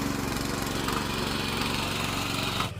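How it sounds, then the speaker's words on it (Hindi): A hill power tiller ploughs a field, its small engine chugging in a loud, continuous, rough drone that holds steady throughout and then drops away abruptly at the very end. "पहाड़ी ट्रैक्टर से इस प्रकार लगता है हल।"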